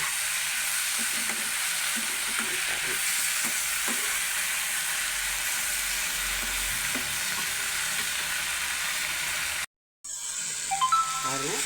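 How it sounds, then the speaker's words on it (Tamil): Tomato chutney ingredients sautéing in a pan, a steady close sizzle with light scraping stirs throughout, briefly cut to silence near the end before a few clinks and faint talk. "எல்லாத்தையும் போட்டு நல்லா வதக்கிக்கவும் இந்த பச்சை வாசனை போகிறது வரையும் நல்லா வதக்கிக்கலாம்"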